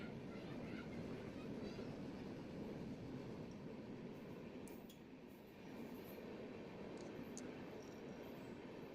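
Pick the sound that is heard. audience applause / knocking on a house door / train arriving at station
train arriving at station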